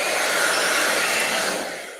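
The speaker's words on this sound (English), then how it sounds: "I should have blown off my work table here before I started with my blow dryer" A blow dryer runs steadily at a work table, a loud, even rushing whoosh of air that holds constant and then trails off slightly at the end.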